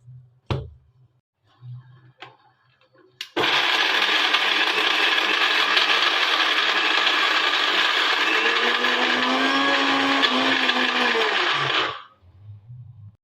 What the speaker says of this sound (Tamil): அரைச்சி எடுத்துக்கலாம்.